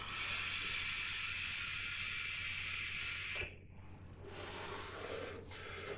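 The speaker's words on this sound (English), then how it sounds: "So let's just give it one more vape." A Coilart Dpro Mini RDA rebuildable dripping atomizer hisses steadily while being vaped, a near airy rush holding for about three seconds before cutting off, followed by softer exhaled breath.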